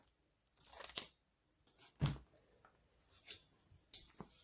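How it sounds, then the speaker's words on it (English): Quiet, irregular snips and crunchy cutting sounds from scissors, several separate cuts spread out with soft rustling between them. "take your scissors and cut it right off"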